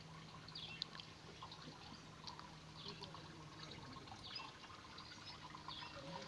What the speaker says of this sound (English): vermi liquid dripping out.